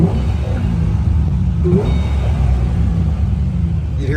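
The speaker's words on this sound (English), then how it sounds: "You hear that blower whine, and it just sounds cool." A supercharged muscle car engine idles and revs with a steady low rumble, a faint blower whine riding over it, close and continuous throughout.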